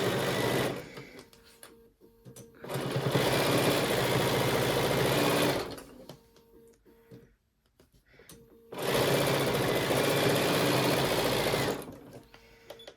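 A sewing machine stitches a thick pillow top border in two long, loud runs of fast, even mechanical whirring and rattling, separated by a few seconds of quiet handling.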